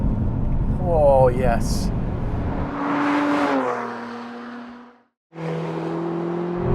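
Lotus Emira sports car pulling hard under throttle, its engine note rising and sweeping through the revs with a sharp tire-squeal-like whine, a short cut, then a steady drone; a voice speaks briefly.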